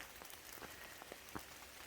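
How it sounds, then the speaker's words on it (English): Rain falls on a trail shelter on the Appalachian Trail, a faint steady patter with scattered sharper drops and no voices. "It's raining."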